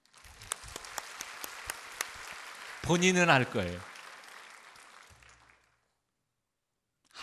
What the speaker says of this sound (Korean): 누군지 모르지만 박수 한번 할까요?